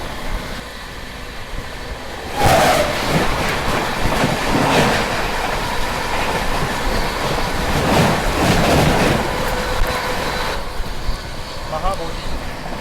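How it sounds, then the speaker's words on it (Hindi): The Mahabodhi Express rushes past close by as a loud, sustained roar with clattering wheels for about eight seconds, heard over the steady rumble of a moving train, with a voice speaking. "मेरे ख्याल से ये महाबोधि एक्सप्रेस आ रही है।"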